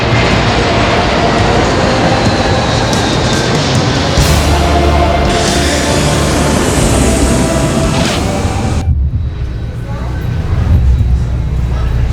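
Steady loud roar of an airplane cabin fills the clip, a continuous engine drone that drops off sharply near the end, with people talking over it.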